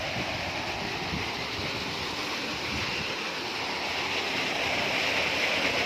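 Continuous, loud roar of water rushing through a field channel, steady and broadband with no pauses, heard up close.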